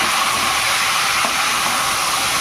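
Pumpkin tipped onto browned onions and garlic in hot oil, a loud, constant close sizzling hiss with no talking.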